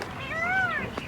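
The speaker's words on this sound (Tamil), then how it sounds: "கேட்குதா மயிலோட சத்தம்?" Peacock calling on a hill near a temple outside Chennai: a single drawn-out, rising-and-falling wailing call lasting about a second, fairly clear against faint outdoor background.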